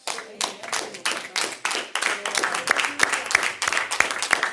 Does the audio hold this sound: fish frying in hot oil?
no